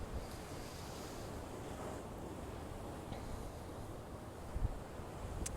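Steady ocean surf washes continuously with a broad wash of breaking waves and some wind rumble on the microphone, loud and unbroken with a slight swell near the end.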